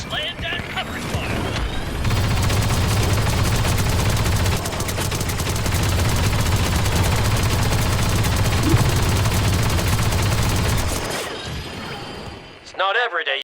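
Rapid, dense blaster fire fills a Star Wars Battlefront II battle on Geonosis as covering fire, a loud continuous barrage that lasts about nine seconds before cutting off. Some brief sound effects can be heard around the barrage.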